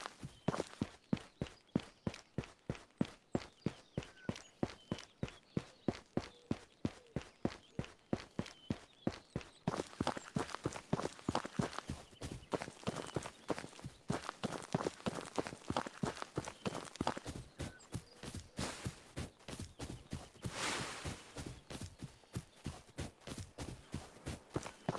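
Footsteps in the VR game Ghosts of Tabor, a steady rhythmic stream of close, crisp steps that speed up into a denser running pace partway through, with no talk over them.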